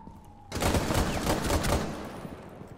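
Rapid bursts of Spear .308 rifle fire in the shooter game Rainbow Six Siege, loud and close, rattling for about a second and a half before fading into a lingering tail.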